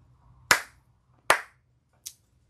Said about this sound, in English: I'm going to clap my hands